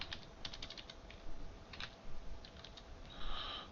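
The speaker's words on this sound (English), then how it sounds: "While that's going on, I'll type this up." Rapid keystrokes on a computer keyboard come in quick bursts with short pauses, close and fairly quiet over a low steady room hum, with no talking.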